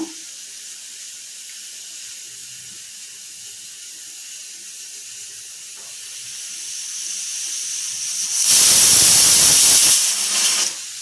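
Pressure cooker cooking rice, a steady steam hiss building gradually, then a loud burst of whistling steam with water sputtering for about two seconds before easing back.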